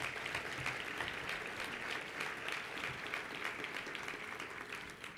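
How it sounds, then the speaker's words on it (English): A hall audience at a community awards event gives sustained applause after a speech, dense steady clapping at even loudness with no voices standing out, filling the space for several seconds. "and they deserve a round of applause."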